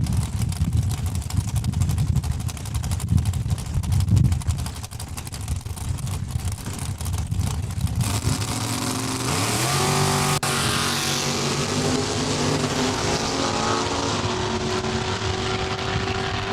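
At a points race at Saskatchewan International Raceway, a dragster roars down the drag strip, loud and close at first. The engine then rises in pitch and fades into a distant whine with a steady rumble as the car pulls away.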